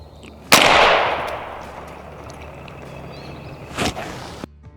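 Two sharp gunshots from a .22 firearm loaded with hollow point ammo, fired outdoors at watermelons. The first is loud with a long, fading echo; a shorter, quieter shot follows about three seconds later.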